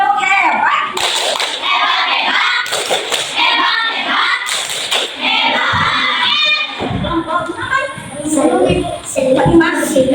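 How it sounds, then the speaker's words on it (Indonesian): Schoolchildren in a classroom clap for a classmate, with rhythmic hand claps mixed with lively chanting and young voices throughout. "tepuk tangan dong buat Ismail"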